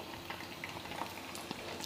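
Green chicken kebabs fry in hot oil over a high flame, giving a steady, soft sizzle and bubbling crackle that runs evenly throughout.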